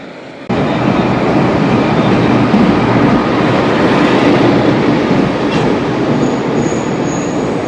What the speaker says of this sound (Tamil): ரயில்வே ஸ்டேஷனுக்கு வந்திருக்கேன் இது வந்து உள்ளூர் ட்ரெயின் மெட்ரோ மாதிரி தான் கிட்டத்தட்ட